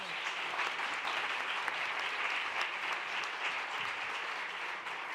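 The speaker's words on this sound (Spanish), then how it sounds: "Un aplauso para ellos." Sustained applause from an audience at a rare diseases research conference, a dense, even wash of clapping that holds steady for several seconds.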